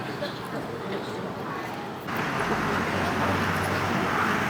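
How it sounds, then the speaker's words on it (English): Busy Macau street traffic crowded with motorbikes, a steady roadway rumble that grows louder midway, with people talking throughout. "So many motorbikes everywhere."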